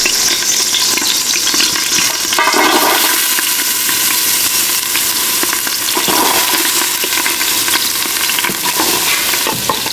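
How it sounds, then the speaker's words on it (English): Steady, loud sizzling and crackling of diced onion and garlic with salt and pepper frying in heated olive oil, with occasional stirring scrapes and no voices throughout. "get some olive oil heated up, cook some onion and garlic with some salt and pepper"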